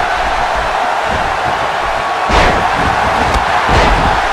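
A wrestler is body slammed onto the mat in the WWE 2K16 wrestling game, heavy thuds landing over a roaring arena crowd, with a second impact close behind the first.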